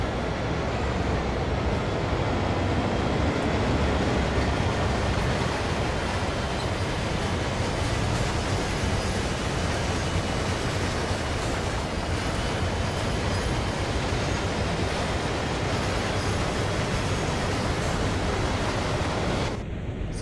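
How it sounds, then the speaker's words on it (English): An AI-controlled train passes in the Train Sim World CSX Heavy Haul winter service game, a loud, continuous rumbling roar that holds steady for about twenty seconds with no voices. "We have another AI train coming our way."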